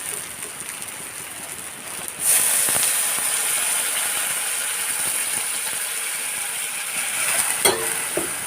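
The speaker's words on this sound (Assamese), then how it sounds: "এতিয়া ইয়াত গৰম পানী দি দিম।" Hot water poured into a pan of frying fish for an Assamese fish curry: a low sizzle, then a sudden loud hissing surge as the water hits, settling into steady bubbling with a couple of sharp utensil knocks near the end.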